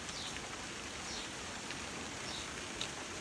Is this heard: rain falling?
yes